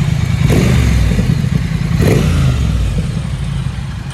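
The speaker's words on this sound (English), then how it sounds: "Noisy bikes." A Kawasaki Ninja ZX10R and other noisy motorcycles rumble loud and close on a group ride, a thick, continuous engine roar with a couple of sharp revving bursts.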